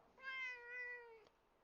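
A pet cat gives one drawn-out, tonal meow lasting about a second, fairly quiet and close, alone in a calm room.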